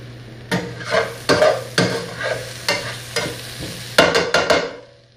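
Chicken for a chicken curry is moved around a hot pan. About ten sharp scraping strokes come at an irregular pace, with a light sizzle between them, close and clear, with no talking.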